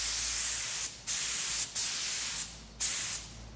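A spray gun at 30 psi lays clear coat onto a plastic bumper cover in four loud, close bursts of hissing spray. Each pass is separated by a brief pause as the trigger releases.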